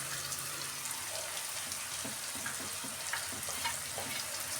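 Grated carrot tipped into a pan of frying vegetables such as peas and tomato, with a soft steady sizzle and a few faint patters and clinks, quiet and close without speech.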